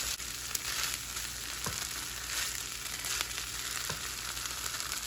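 Rice for pineapple fried rice with black beans frying over medium heat in a pan, left to crust: a steady, even sizzle holds throughout, with a few faint scrapes or clicks and no talking.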